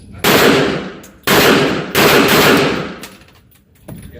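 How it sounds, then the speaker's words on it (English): Rapid fire from a gun at an outdoor shooting range: three loud, long bursts of fast-repeating shots separated by short pauses, then a single fainter shot near the end. "Let's do some rapid fire."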